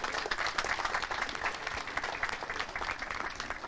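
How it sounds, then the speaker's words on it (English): Sustained applause from a crowd, many hands clapping steadily at moderate volume without pause. "Matty deserves a round of applause there"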